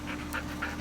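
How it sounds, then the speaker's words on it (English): A dog panting close by, quick rhythmic breaths repeating steadily over a low background hum. "My dog's here for moral support."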